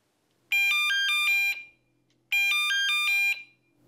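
A phone app alert for a veterans search team sounds twice, each burst a loud, bright electronic chime sequence lasting about a second, separated by a short quiet gap.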